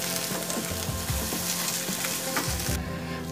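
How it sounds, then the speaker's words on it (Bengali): Smashed soybean paste with added salt sizzles and fries in a pan as it is sautéed, a loud continuous crackle broken by repeated scraping stirs, with no talking. "সব শুদ্ধ এটাকে আমি কষবো"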